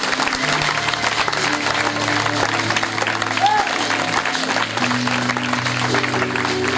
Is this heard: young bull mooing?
no